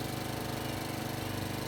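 A Honda HRX217 walk-behind lawn mower's engine runs continuously at a steady pulsing drone, loud and close, with no talking over it.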